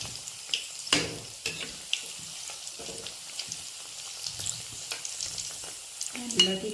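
Banana flower and chickpea vadai deep-frying in hot oil, a steady low crackle with scattered pops and bubbling, fairly quiet with brief clatter from the pan now and then.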